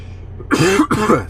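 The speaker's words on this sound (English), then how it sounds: "got a cough" A single harsh, close cough bursts out twice in quick succession, loud and raspy.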